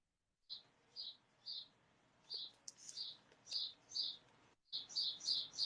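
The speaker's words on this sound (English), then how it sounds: "Ooh, listen to those birds." Small birds chirp outdoors in a series of short, bright, high calls, repeating about once a second, then quickening into a denser run of chirps near the end; the sound is faint and distant over a quiet background.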